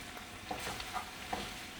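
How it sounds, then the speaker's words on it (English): Rapini wilting in olive oil with garlic crackles and sizzles in a pan while being stirred, a steady frying hiss with a few soft scraping stirs, heard close and quiet. "You've got to give the rapini a stir because it's wilted down."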